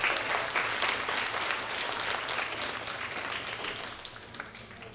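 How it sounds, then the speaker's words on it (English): Dense audience applause fills a 2018 pageant hall, steady and loud at first and tapering slightly toward the end, with no voices over it. "Another round of applause."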